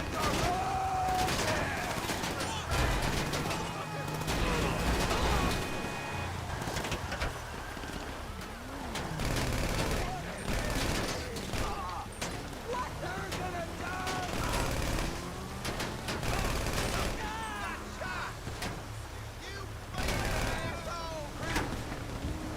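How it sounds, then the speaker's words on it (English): Repeated bursts of gunfire from a shooter in GTA Online, mixed with game sounds and voices talking throughout, moderately loud and continuous. "Why is this guy shooting?"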